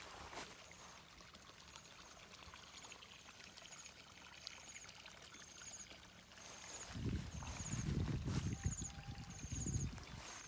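Water from a solar-powered farm irrigation system running in a rice-field pasture, a steady trickling, splashing flow that grows louder and more turbulent partway through, with faint high chirps over it and no talk.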